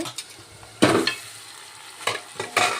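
Cleaned mutton goes into reddened masala for a hotel-style mutton curry, giving a low sizzle punctuated by a few loud bursts of stirring and hissing, close by.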